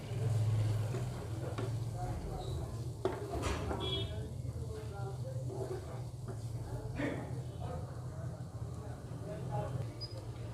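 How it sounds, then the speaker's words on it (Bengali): Chopped onion frying in a pan while veg momos are being made: a steady sizzle with scraping stirring throughout, a voice audible over the cooking. "পেঁয়াজটাকে একটু ভালো করে ফ্রাই করে নেব।"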